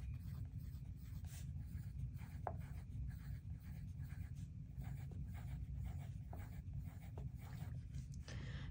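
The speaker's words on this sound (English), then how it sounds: "So now let's draw our tape diagram." A pen scratches steadily across paper while drawing a tape diagram for a third-grade math lesson, close and continuous with soft, faint strokes throughout.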